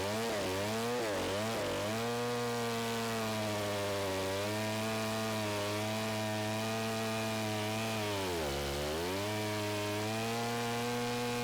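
A Stihl 090 chainsaw milling wood whines loudly and continuously, its pitch surging and dipping as the load comes and goes, with sharp revving swings early on and again near the end; no talking.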